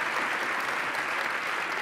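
Steady audience applause at a science slam show in Frankfurt, a dense even wash of clapping from a large crowd that holds constant throughout.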